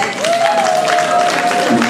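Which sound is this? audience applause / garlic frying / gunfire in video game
audience applause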